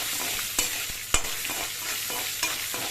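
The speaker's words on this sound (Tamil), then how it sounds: "இந்த இஞ்சியும் மிளகையும் அதுல சேர்த்துடணும். சேர்த்து வதக்கணும்." Ginger and black pepper sautéing in a kadai for coriander chutney, a steady close sizzle broken by a few sharp scrapes and clacks of stirring, with no talking.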